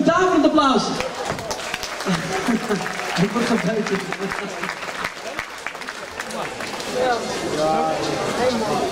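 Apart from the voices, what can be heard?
audience applause at a boxing match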